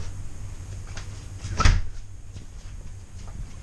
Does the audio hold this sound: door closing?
yes